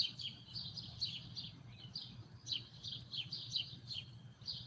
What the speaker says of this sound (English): if I remain quiet for a moment, you can hear the birds.